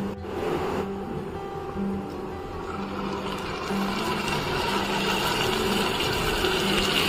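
Water runs steadily from a kitchen tap as a small bowl is rinsed and a little water is added to a pot of potatoes with poppy seed paste, a continuous close splashing stream with no talk.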